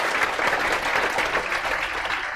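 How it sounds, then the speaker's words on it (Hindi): A classroom audience at an accounts lecture breaks into steady, dense clapping that fills the whole stretch evenly and loudly, with no voices over it. "ताली आप सभी के लिए"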